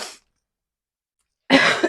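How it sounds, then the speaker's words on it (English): One short cough sounds at the start, then a second, louder cough or throat-clear comes after a silent pause. Both are close and stand alone with no talking. "Excuse the sniffles and the cough"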